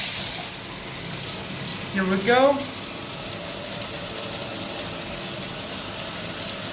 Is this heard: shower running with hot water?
yes